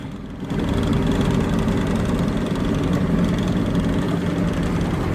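A boat's engine runs steadily during a Seafoam fuel-treatment trial, a loud, continuous low rumble that kicks up after a brief quieter start and holds constant to the end.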